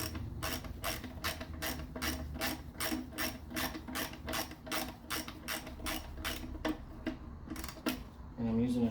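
A ratcheting wrench loosens 10mm bolts on a VG33E engine, making a steady run of quick close clicks with brief pauses, and a faint voice at the very end.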